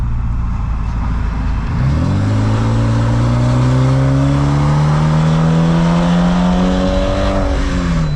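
A BMW E90 sedan engine revs up sharply and holds a deep, throaty roar through a loud Euro Arts aftermarket exhaust, then drops back down, heard close from outside.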